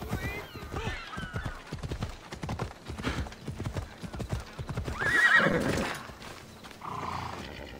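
A horse ridden in Assassin's Creed Odyssey gallops with steady, rapid clip-clop hoofbeats, snorting and whinnying partway through amid game ambience.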